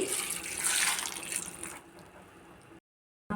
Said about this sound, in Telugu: తగినన్ని వాటర్ అయితే వేసేసుకోవాలి